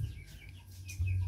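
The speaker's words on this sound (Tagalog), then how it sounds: "Yung mga aking mga manok pumapasok sa loob." Chickens cluck faintly and briefly inside a house, over a low, steady hum.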